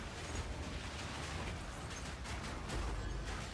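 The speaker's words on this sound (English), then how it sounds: "I mean, the explosions are pretty big." Big Rampage explosions in the Path of Exile 2 video game, a loud constant rumble with crackling, popping bursts stacked close together and no gaps.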